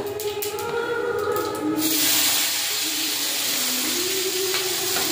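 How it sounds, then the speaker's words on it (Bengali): Chopped onion fries in hot oil with a loud, steady hiss that swells after a brief stir and keeps going without a break, close up, and no one talks. "পেঁয়াজটা ভাজা ভাজা করে নেব।"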